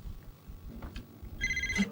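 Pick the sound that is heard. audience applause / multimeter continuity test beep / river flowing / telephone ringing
telephone ringing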